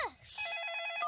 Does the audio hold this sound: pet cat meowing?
no